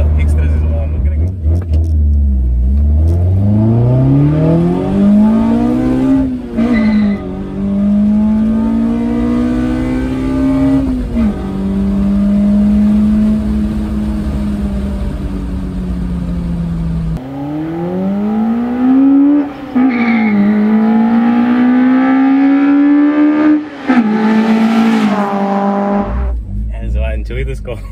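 Toyota Corolla RXi AE111 with a 4AGE 20-valve four-cylinder revs repeatedly close to the mic, the pitch climbing and falling through several loud sweeps and holding at a steady high idle in between.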